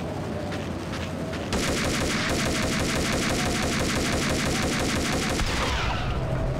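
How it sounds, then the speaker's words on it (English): Sustained rapid gunfire shooting at cables in the video game Max Payne, loud dense bursts that build after a short lead-in and run on continuously before tapering off. "I'm gonna shoot the cables."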